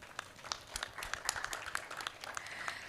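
Panel session attendees clap for themselves, giving a dense, even patter of many hands that swells slightly midway, fairly faint and steady with no talking.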